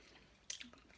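A brief, close crunch of hard candy being bitten and chewed, a couple of sharp cracks in near silence.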